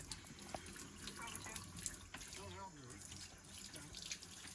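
Tap water runs steadily into a sink while a container from a 1937 John Deere hit-and-miss ice cream maker is rinsed, faint and continuous with soft splashing and people talking nearby.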